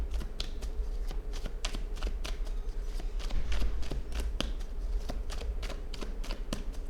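Tarot cards are shuffled and drawn in a quick run of crisp riffling snaps and soft slaps, close and fairly quiet, with no voice over them.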